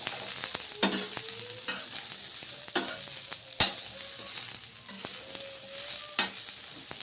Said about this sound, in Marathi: यावर चार ते पाच मी इथे मिरच्या घातलेल्या आहे थोडा लसूण आता आपल्याला हे सगळं व्यवस्थित भाजून घ्यायचं आहे